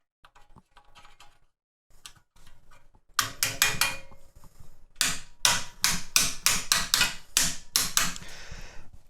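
Part of a Monstertech flight stand gets tapped into place with the bottom of a metal socket. A few light taps come first, then a long run of sharp, loud, evenly spaced knocks with brief pauses between groups.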